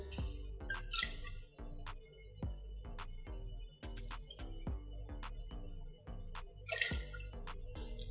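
Vodka poured into a cocktail shaker while preparing a Bloody Mary, heard as a quick series of close liquid drips and taps in an irregular rhythm, with a couple of brighter splashy bursts.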